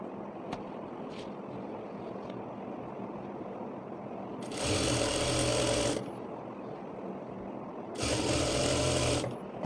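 A sewing machine stitches fabric for a scrunchie in two loud, steady whirring bursts of about a second and a half each, separated by a pause with quiet room noise and light handling sounds.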